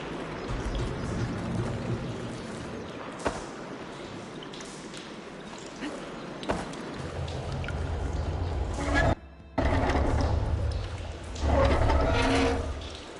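Water flows and splashes inside an indoor room in the Horizon Forbidden West video game, a steady pouring wash with a few sharp knocks and a brief dropout, swelling louder toward the end.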